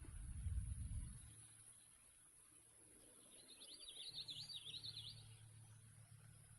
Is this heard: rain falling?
no